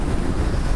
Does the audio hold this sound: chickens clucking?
no